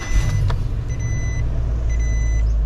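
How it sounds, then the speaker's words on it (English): A car engine idles steadily after a repair, with a continuous low rumble broken by two bursts of high electronic warning beeps, close and loud. "Let's restart it one more time just to verify."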